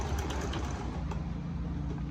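Sewing machine running steadily while stitching pleated fabric ruffles, a dense continuous mechanical whir with a fast needle rhythm, close and fairly loud, with no talking.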